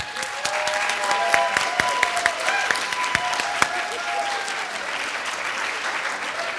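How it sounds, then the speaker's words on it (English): An awards ceremony crowd at a youth film festival gives steady, sustained applause, with some close individual claps standing out early and a faint voice or tone sounding beneath the clapping. "Let's give them one more round of applause,"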